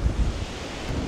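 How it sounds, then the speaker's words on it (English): Strong wind whipping across the seashore at sunset, a loud, blustery rush with low gusty thumps battering the microphone, close and unbroken for a second. "It's incredibly windy."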